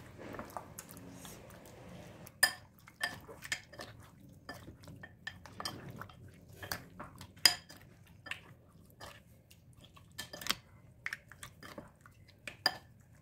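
Chicken marinade with soy sauce being mixed in a bowl, quiet squelching under scattered sharp clinks of a utensil against the dish at an irregular pace, close and faint.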